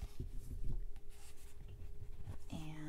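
Leather notebook from Portland Leather Goods being unwrapped from its slip-and-wrap closure, with soft rustling and light handling sounds up close, then a brief louder scrape near the end.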